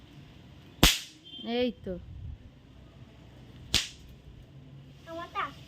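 Firecrackers set off on a Kali Puja morning: two sharp, loud bangs a few seconds apart, each with a brief crackle, while children's voices chatter between the blasts.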